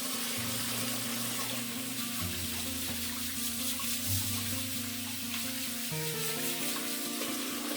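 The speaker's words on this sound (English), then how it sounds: "And then I'm going to fill it up with water." Tap water runs steadily into a container, a constant hiss and splash that continues throughout, with a low sustained tone beneath it and no talking.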